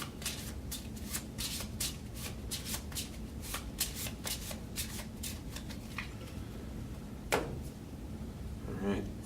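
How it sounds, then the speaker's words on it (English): Cards handled during a Pandemic board game, a rapid run of close riffling flicks over several seconds, then a few sparser card snaps and slides. "we're still going to draw 2 cards after this"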